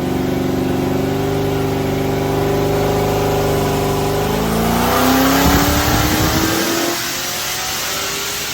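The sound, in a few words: car engine revving in full throttle dyno run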